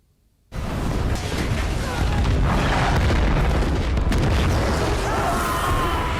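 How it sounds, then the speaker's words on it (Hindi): A North Korean missile fired from a train launcher: after a moment of silence a sudden loud blast breaks into a sustained, roaring rumble that carries on to the end. "नॉर्थ कोरिया ने पहली बार ट्रेन से मिसाइल दाग दी है।"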